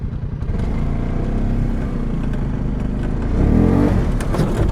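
A Polaris ACE 570 four-wheeler engine runs loud and close, a throaty buzzing drone that climbs into a stronger rev near the end, with no speech over it.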